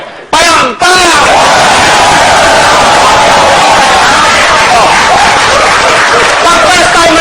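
A seminar audience claps together in a dense, loud, sustained burst with shouting and whooping mixed in, holding steady for several seconds after a brief gap at the start.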